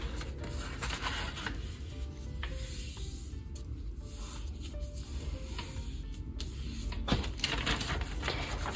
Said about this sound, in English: You are going to start by folding your square into a rectangle like this.